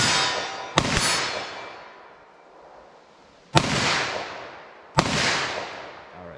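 .357 handgun firing, likely .357 Sig or .357 Magnum with Underwood JHP ammunition, three sharp loud reports spaced a few seconds apart, each followed by a long decaying echo.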